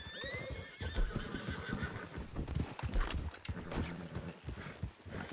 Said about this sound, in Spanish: Caballos.